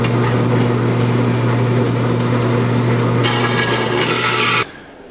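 A jigsaw rasps continuously through sheet metal for shock towers on a 1949 Chevrolet gasser, loud and close with a steady motor whine, then cuts off abruptly near the end.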